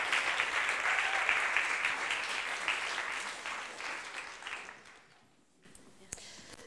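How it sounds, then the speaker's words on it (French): An audience welcomes a speaker at a talk with a thick burst of applause that holds strong, then thins and fades away, leaving a near-quiet room with a stray sound at the end. "Alors maintenant, on va applaudir"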